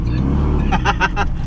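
A Subaru STI hatchback running on E85 accelerates hard, its engine roaring loudly from inside the cabin with a steady low drone and rising revs, with voices breaking in briefly over the noise.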